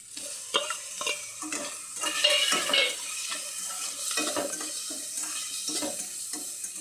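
Onion and tomato frying in a pan until browned, with repeated scraping and stirring strokes over a steady sizzle, close and moderately loud, no voices.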